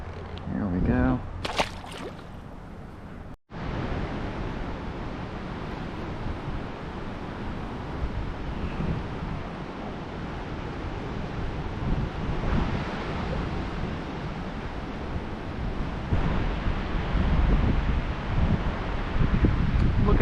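Strong wind blowing over open water on a windy fishing day, a loud continuous rushing roar with buffeting against the microphone, and a brief click early on.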